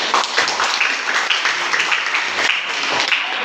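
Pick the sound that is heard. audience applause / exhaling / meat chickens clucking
audience applause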